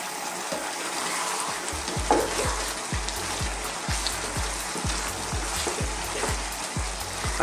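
Softened tomatoes and garlic are stirred in a sizzling pan, with a steady rhythm of soft spoon scrapes about every half second over continuous frying crackle, close and moderately loud.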